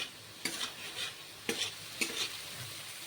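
Spices with turmeric and cumin powder frying in a pan, fairly quiet. Three distinct spatula scrapes rise over a low, steady sizzle, and no one talks.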